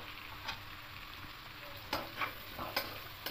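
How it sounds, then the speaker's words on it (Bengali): Capsicum and onion go into a pan of frying vegetables for a homemade pasta, giving a steady sizzle with a few sharp stirring scrapes and clinks throughout, close and moderately loud with no voices. "এবার এখানে কিপ করা ক্যাপসিকাম আর পেঁয়াজটা দিয়ে দেবো"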